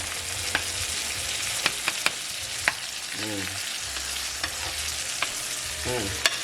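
Salted onions sweat in a pan with a soft, steady sizzle, punctuated by occasional stirring clicks and scrapes. Short hums of voice surface briefly in the background.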